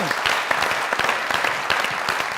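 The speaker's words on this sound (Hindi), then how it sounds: "खड़े होकर ताली बजाइए" A comedy show audience gives a standing ovation, with dense, loud, continuous clapping and a few faint voices mixed in.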